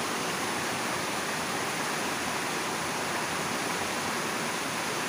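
A constant, full rush of flowing water, like a stream or waterfall close by, holds evenly throughout with no other sounds.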